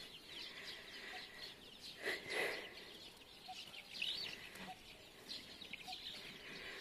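Chicks cheeping in a rural yard, faint scattered high peeps and soft clucks heard at a distance over quiet outdoor background.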